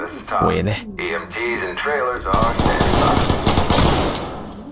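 Gunfire in the tactical shooter video game Ready or Not crackles in rapid bursts and volleys, loud and close. The shots follow shouted speech and partly overlap it.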